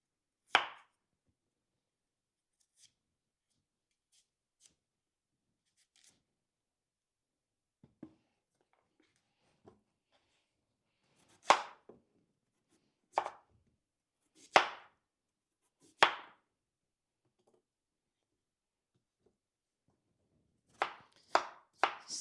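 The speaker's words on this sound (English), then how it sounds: "Slice it in small pieces" A knife cutting peeled jicama into small pieces on a board, sparse crisp chops heard close and alone, spaced irregularly with long quiet gaps and a quicker cluster at the end.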